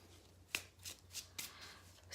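Tarot cards riffled and shuffled in the hands, a run of soft papery flutters and sharper snaps in an uneven rhythm, close and quiet with no talking.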